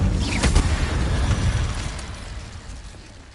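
An Incendio fire spell is cast in the wizarding game Hogwarts Legacy, a deep, booming whoosh of flame that bursts loudly at once and then fades slowly over a few seconds.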